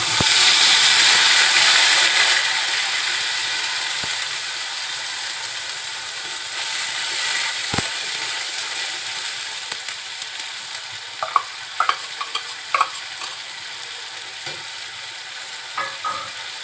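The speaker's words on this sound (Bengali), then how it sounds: "এখন এই গরম তেলের ভিতরে দিয়ে দেব বাটা পেঁয়াজ" Onion paste dropped into hot oil for a mustard rohu fish curry, a loud hiss of frying that fades to a steady sizzle, with scattered clicks and scrapes of stirring near the end.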